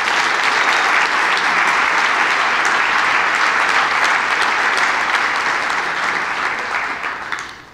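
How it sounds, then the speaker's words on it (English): Dense, sustained applause from a banquet audience honouring the staff at a keynote dinner event, loud and even throughout before tapering off at the end. "Let's give them a round of applause."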